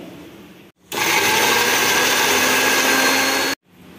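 A kitchen mixer grinder whirs loudly and steadily for about three seconds as it grinds onion, ginger and garlic into paste, starting and stopping abruptly with quiet room tone on either side.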